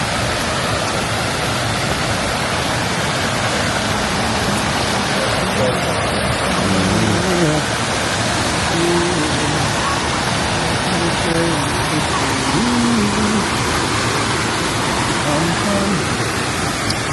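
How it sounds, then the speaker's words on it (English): A river flowing steadily beside an outdoor cooking spot, a constant broadband rush that fills the whole stretch at near, even loudness, with faint voices and other sounds briefly audible beneath it. "Come and listen to the river."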